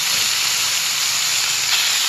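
Chicken pieces frying in a dry pan with no ghee for Andhra-style chicken pickle, giving a steady, close sizzling hiss that holds evenly throughout.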